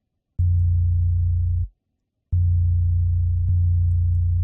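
A deep kick drum sample in FL Studio plays as long, booming low hits with sustained tails, three strikes in an uneven pattern separated by a short silence.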